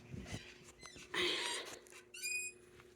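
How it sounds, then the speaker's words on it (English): A homemade garden rocking chair squeaks as it rocks, giving short rubbing creaks with a higher chirping squeak near the end, close and fairly quiet. "Rocking our squeaky rocker."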